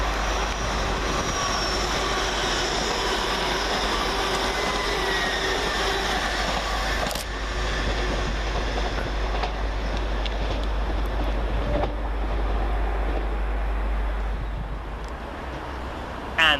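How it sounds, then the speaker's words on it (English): An LNER Class 800 train, unit 800205, rumbles steadily through Peterborough station with a continuous low roar and faint wheel and rail clatter that fades slightly toward the end. "going in the opposite direction for LNER is 800205, working 1 Alpha 22 from Harrogate to London King's Cross"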